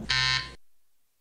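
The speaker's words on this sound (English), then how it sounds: "a buzzer may go off as the door opens" A single harsh electronic buzz sounds loudly for about half a second, then cuts off abruptly into silence.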